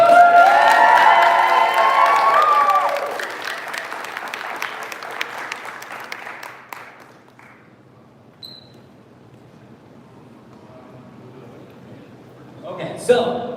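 Elementary school students clap and cheer loudly with high shrieks for several seconds, then the applause fades into quiet room noise with scattered small sounds and a brief burst near the end.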